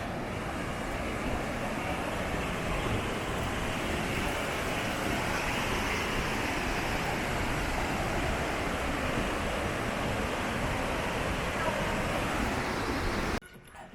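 Kheerganga waterfall, a steady, dense roar of rushing water heard close and loud, unbroken throughout with no voices over it.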